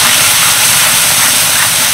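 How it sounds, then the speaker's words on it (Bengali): Spiced water poured into hot oil and masala paste for a prawn kofta curry, a loud close sizzling hiss that fills the whole moment, steady and unbroken. "এবার দিয়ে দিচ্ছি মশলা দেওয়া জল"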